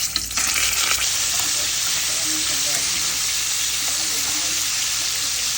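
Spicy pork ribs fry in a pan with a loud, steady sizzle and crackle that holds from start to finish, close up and dense, with no talk over it.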